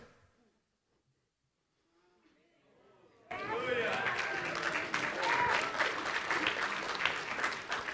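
Audience applause bursts in suddenly after a near-silent stretch with faint speech, then holds as a dense, steady wash of clapping with some chatter mixed in.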